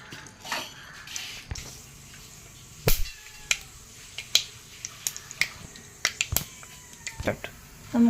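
Mustard seeds pop in hot oil in a pan, sharp irregular crackles and snaps bursting one after another at close range over a low sizzle, with a person talking in the background.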